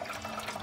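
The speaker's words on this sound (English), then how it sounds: "Hot water." Hot water runs from a repaired espresso machine, a faint, steady hiss and trickle that lasts under a second.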